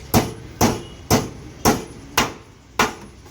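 Six sharp, evenly spaced hammer blows ring out up close as a new collar is knocked onto an electric rickshaw's handle bearing, each strike followed by a short decaying ring.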